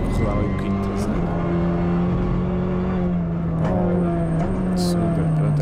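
The engine of a Kia Ceed GT Cup race car drones loudly and continuously from on board while lapping a track, its pitch shifting as it revs, with someone talking over it.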